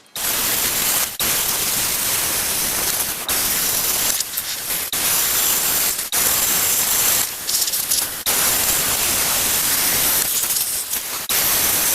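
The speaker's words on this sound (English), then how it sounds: "we'll get it in there and we'll get as much of a weld on it as we can" Steel is arc-welded on an 84-year-old dumper, half-inch material, giving a loud, steady crackling hiss in long runs broken by short pauses between beads.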